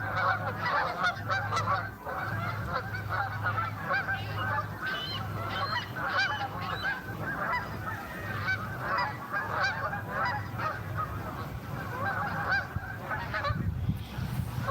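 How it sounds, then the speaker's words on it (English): A flock of geese honks repeatedly outdoors, overlapping calls in a steady, busy chorus that carries on throughout, fairly close and loud, with a low steady hum underneath and no talking. "At least the geese seem to be moving that way."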